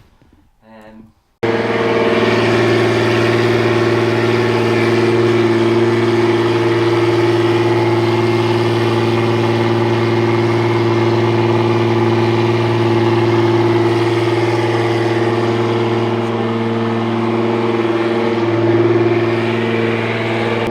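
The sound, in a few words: tuned car engine on a dyno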